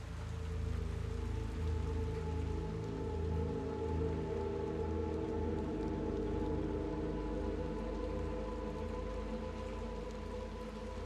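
Rain falls steadily in the PS5 game Little Nightmares 2, a dense, even hiss over low sustained ambient tones that runs throughout with no talking.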